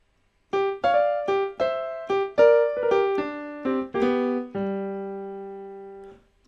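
A short bluesy piano phrase of about a dozen quick notes, played solo and clearly in the style of a particular blues pianist, ending on a held chord that rings out and fades.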